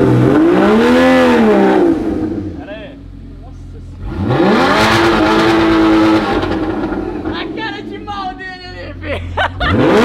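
A Porsche V6 with its exhaust completely removed revs loudly and close by in bursts, two long surges with a quieter idle between, while people talk over it.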